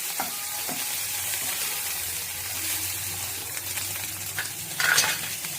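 Homemade butter melts in a hot pan with a soft, steady sizzle and frying crackle, plus a few light stirring clinks, heard alone with no voices.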